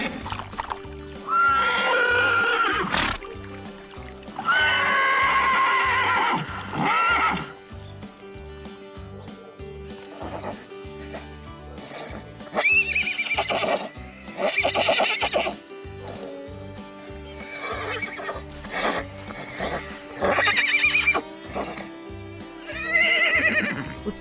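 Horses neigh and whinny repeatedly, several loud, shrill calls spaced through the stretch, with softer snorts and faint hoof clops between them and no talking.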